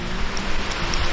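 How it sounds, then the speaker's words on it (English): Pouring rain on a hiking trail near a waterfall, a dense, steady wash of drops hitting surfaces at close range, continuous and with no voices. "It is pouring rain outside"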